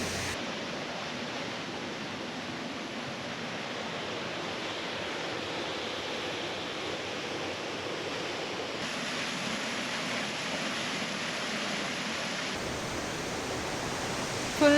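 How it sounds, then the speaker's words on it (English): Water pours over a waterfall near Kawazu, Japan, making a steady, broadband rushing roar that holds unbroken and fairly loud throughout, with no voices over it. "Full water flowing sound."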